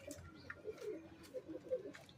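Soft, low pigeon coos repeat in short bursts, fairly faint, with a few light rustles and chirps around them, from pigeons perched up high.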